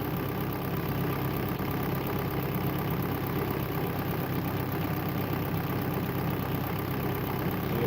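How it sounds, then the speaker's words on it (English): A Kia Soul engine idles steadily after a thermostat replacement, giving a constant, even drone with no change in pace and no voices, heard from nearby. "So the engine is running very nice."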